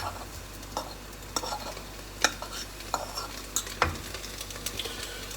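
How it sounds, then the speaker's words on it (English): Beef frying in a pan with pasta nearby, a soft constant sizzle broken by repeated scrapes and clinks of a utensil stirring against the pan at irregular intervals. "So we'll put the beef in."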